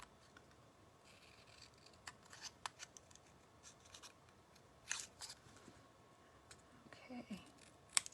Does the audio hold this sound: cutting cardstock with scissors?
yes